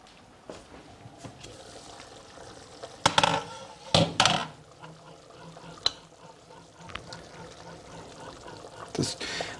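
Liquid trickles into a pot of harira, a Moroccan soup, while it is stirred, with sharp clinks and scrapes of a utensil against the pot and a soft wet swirl throughout.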